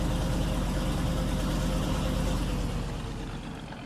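A tractor engine idles in the Farming Simulator 19 video game, a steady low rumbling drone that runs throughout and eases slightly toward the end.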